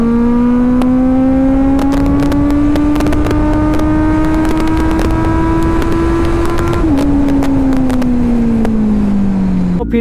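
A Kawasaki Z900 BS6 motorcycle pulls in third gear, its loud, close engine rising slowly for about seven seconds, then dipping briefly and tapering down as the revs fall.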